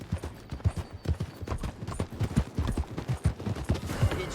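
Horse hooves clip-clop at a steady riding gait in Red Dead Redemption 2, a close, rhythmic run of hoofbeats with no talking.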